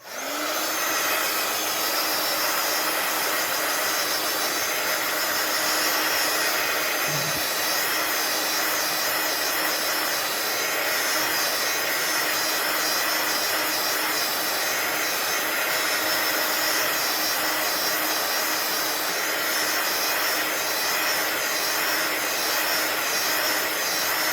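Hair dryer blowing at close range to dry paint on a handmade grandmother's day gift, a loud, unbroken whooshing roar lasting the whole time with no talk.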